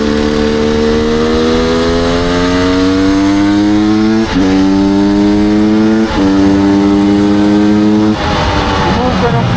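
KTM 300 supermoto two-stroke motorcycle engine under load while riding, loud and close, its pitch climbing steadily through gears with brief drops at each shift; a rider's voice comes through faintly over it.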